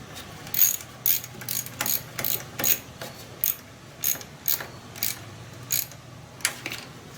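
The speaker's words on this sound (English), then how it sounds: "I'll tighten up the positive first." Ratchet wrench tightening the positive cable nut on a starter in a fourth-generation Nissan Maxima, a steady run of sharp, close clicks at roughly one or two per second, with no talk.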